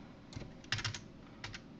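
Fingers tap out an IP address on a computer keyboard, a quick uneven run of close, soft key clicks with a few louder strikes and brief pauses between them.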